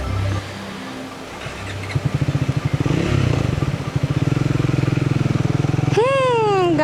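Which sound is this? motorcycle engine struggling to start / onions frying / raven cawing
motorcycle engine struggling to start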